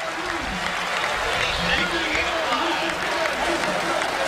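A sellout stadium crowd at a college football game between Purdue and Ohio State roars as a broad, steady wash of noise, with no clear break in volume from start to finish.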